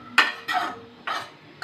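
Carrot halwa stirred with boiling milk in a pan, the spoon giving three or four separate scraping, clattering strokes against the metal at close range, with no voices.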